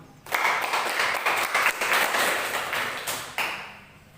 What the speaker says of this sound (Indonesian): mari kita berikan dulu aplaus ke kelompok 1